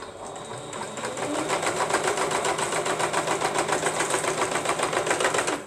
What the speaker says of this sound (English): Let's get it sewed. I want it sewed down.